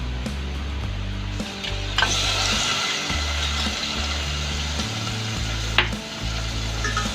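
Chicken pieces sizzle and fry in a pan for homemade chicken soup as they are stirred, with steady close frying hiss, a few scraping utensil strokes and a low rhythmic hum underneath.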